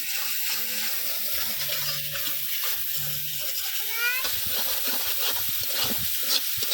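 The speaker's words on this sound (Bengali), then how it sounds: "তো এখন মশলাটা আমি কষাই নিব বন্ধুরা।" Spice paste of turmeric, chilli and coriander being fried and stirred in a pan, with a steady close sizzle and hiss and a few scraping stirs, with faint background noise throughout.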